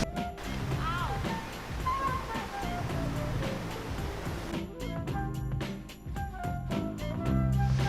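A river flows with a steady, broad rushing wash of water outdoors, fairly close and continuous, with a few sharp handling knocks near the end.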